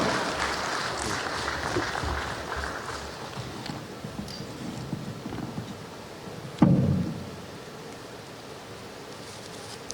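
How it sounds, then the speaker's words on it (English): A conference audience at the eNaira hackathon grand finale gives a standing ovation to the Central Bank of Nigeria governor, the clapping fairly distant and fading away over a few seconds, followed by a single sharp thump. "A round of applause for the governor"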